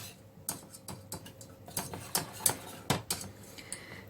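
Moussaka sauce being mixed for a minute before the milk goes in, heard as irregular light clinks and scrapes of a utensil against a pot, sharp separate ticks spread over a few seconds at close range with no talking.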